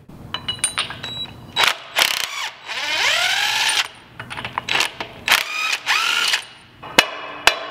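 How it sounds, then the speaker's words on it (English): A ratchet works on the axle retaining flange bolts of a Ford 9-inch axle, in bursts of rapid metallic clicking separated by pauses, close and loud, with a few sharp knocks and a whining spin-down in between. "I'm going to unbolt these retaining flanges and just pull the shafts out a little bit"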